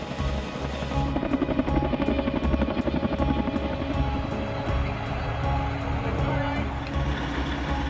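A helicopter's rotor chops rapidly and steadily, a loud, continuous drone with regular blade pulses throughout.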